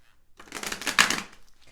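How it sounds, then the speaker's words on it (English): A deck of tarot cards being shuffled once, close up: a quick riffle of about a second, rising and then falling, with no talking. "I'm going to shuffle one more time."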